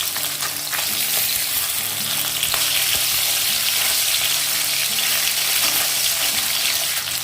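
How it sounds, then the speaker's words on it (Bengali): Pieces of rohu fish frying in very hot mustard oil in a wok, a loud, continuous sizzle and crackle with a few faint clinks, no one speaking. "এবার আমি মাছগুলো ছেড়ে দেবো আর এক পাশটা উল্টে দিয়ে ভেজে নেব।"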